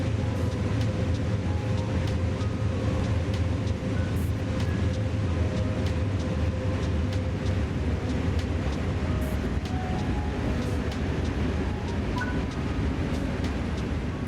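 BNSF ES44C4 locomotive hauling a heavy freight train in Train Sim World 3, a dense continuous low diesel rumble with steady rolling noise and faint periodic clicks, sustained and even throughout.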